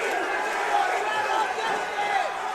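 Fight crowd at a live bout between Lirim Rufati and Jimmy Drago, a sustained roaring din of cheers and shouts under a commentator's voice throughout.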